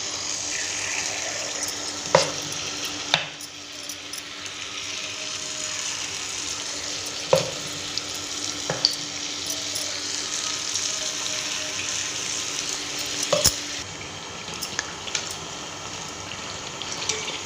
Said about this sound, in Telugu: చక్కగా 2 వైపులా మంచిగా డీప్ ఫ్రై చేసుకోవాలండి